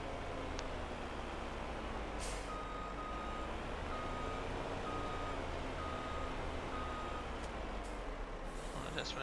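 A flat deck truck in Farming Simulator 22 gives a series of evenly spaced reversing beeps over a steady low engine rumble, with a few short bursts of hissing and clanks.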